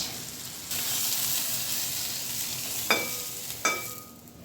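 Okra frying in a pan makes a soft, continuous sizzle, joined by two brief scraping clinks near the end as it is stirred or lifted out, with no voices.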